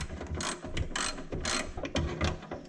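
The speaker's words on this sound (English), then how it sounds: "with a smaller ratchet, I'm going to get the rest of these bolts down in here" Ratchet clicking in short repeated bursts as downpipe bolts on a Mini Cooper R56 are worked loose, close and fairly loud, with brief pauses between strokes and no talking.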